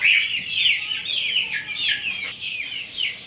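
Chicks in a cage peep in quick, repeated high-pitched chirps, several birds calling over one another close by with no pauses, and no talking.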